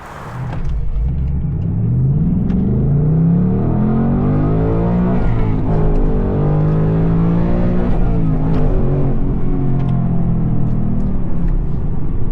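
A Ford Mustang Dark Horse with a manual transmission launching hard: a loud, close engine note that climbs in pitch through the revs, drops at each shift and climbs again, with no talk.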